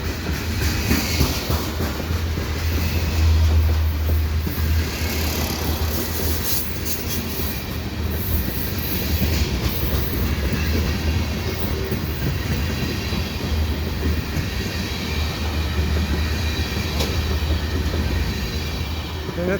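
A CP freight train with two mid-train DPUs rumbles past Cedar Park Station at night, steady rhythmic wheel clatter and occasional squeal, continuous and loud for the whole stretch.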